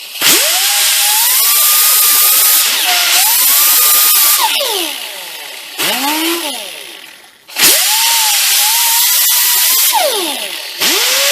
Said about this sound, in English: I'm going to take and sand a little bit off of this.